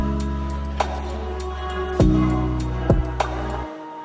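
A sad lofi vocal sample in FL Studio, doubled with a copy pitched an octave up, sustains as a steady tonal line with a few soft percussive hits before cutting off just before the end.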